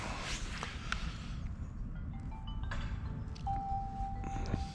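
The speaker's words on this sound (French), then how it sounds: "Je sais pas si vous l'avez entendu, la musique de la télécommande." A short electronic melody from the remote control of a Sworkz S35 RC car, a steady tone plus a rising beep near the end, fairly faint over outdoor rustling and footsteps.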